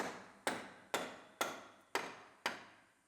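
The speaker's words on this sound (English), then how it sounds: "Hammer the top a little bit, get that straighter." Six sharp hammer blows strike car body metal at an even, steady pace, each with a brief ringing decay, close and clear with no talking.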